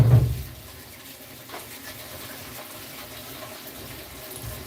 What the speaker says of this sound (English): now we're ready to fill it up with water